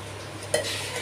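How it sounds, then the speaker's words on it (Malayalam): Anchovies (kozhuva) fry in a pan with a brief close sizzle and a sharp scrape or clink partway through. "കൊഴുവ ഞാൻ വറുത്തുകൊണ്ടിരിക്കുകയാണ് കേട്ടോ."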